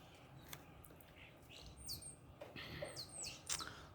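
Small birds chirp and tweet in short, scattered calls at a feeding spot among trees, moderately close and fairly faint against a quiet outdoor background.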